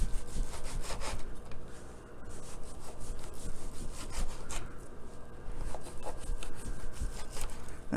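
Knife sawing back and forth through a medium rare beef roast, cutting it into thin slices, with steady repeated rasping strokes close up and no talking.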